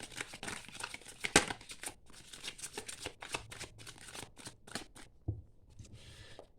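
Oracle cards being shuffled by hand, a dense run of papery riffling and crinkling strokes with one sharper snap early on, close and fairly quiet, pausing briefly near the end before a few last rustles.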